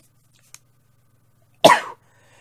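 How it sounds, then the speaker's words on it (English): A single sharp sneeze bursts out close by after a tiny click, then quiet returns. "I'm going to sneeze again."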